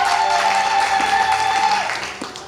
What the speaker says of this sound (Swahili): Pigie Bwana makofi, haleluya.